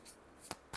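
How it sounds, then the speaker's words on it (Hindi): Tarot cards being shuffled one last time: two quick riffling bursts of papery card noise, close and fairly quiet, with near silence between them. "Last shuffle."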